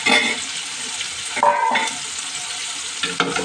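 Sliced drumsticks fry in a pan with a close, steady sizzle, broken by stirring scrapes and clatter.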